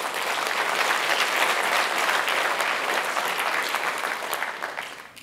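A large audience at a tech company's opening keynote gives a round of applause, a dense, continuous roar of clapping that holds steady before tapering off toward the end.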